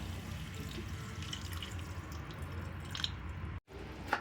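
Water splashes steadily into a pot of Kerala chicken curry, a close, continuous pour with a brief break near the end.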